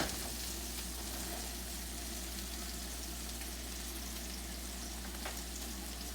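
Pork chops sear in a pan on a stovetop, a continuous low, fairly faint sizzle with a steady hum underneath and no talk.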